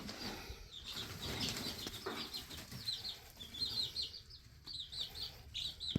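Young chicks in a brooder flap their wings and peep under a lifted board, with soft repeated chirps and bursts of fluttering close by at low volume.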